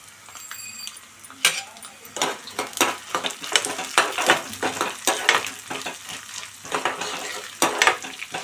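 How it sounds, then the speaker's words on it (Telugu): Chana dal, cumin, urad dal, mustard seeds and green chillies fry in a little oil in a pan, with crackling sizzle, sharp pops and scraping stirs clattering close by, no voice over it. "మిరగాయలు కూడా వేసుకుంటున్నాం. ఇవన్నీ వేగాలన్నమాట బాగా."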